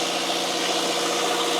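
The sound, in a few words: engine room of motor yacht M/Y Oceana, engines running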